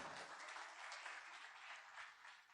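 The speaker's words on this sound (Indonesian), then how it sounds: "Tepuk tangan Anda semua." An audience at an Indonesian Tiens business seminar claps steadily, a dense, even wash of applause with no voices over it.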